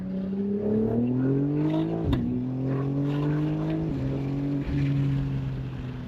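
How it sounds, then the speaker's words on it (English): A BMW G82 M4 xDrive engine with aftermarket intakes, midpipe and axle-back exhaust revs up repeatedly, pitch climbing and dropping at each gear change, with a breathy whooshing intake sound over the steady drone. "if you kind of just roll into it a little bit, you get this nice whooshy intake noise"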